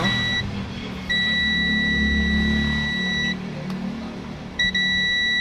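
A multimeter's steady high-pitched continuity buzzer sounds while testing a shorted circuit in an LED TV that won't turn on, cuts out briefly, resumes for a couple of seconds, then returns in short bursts over a low hum.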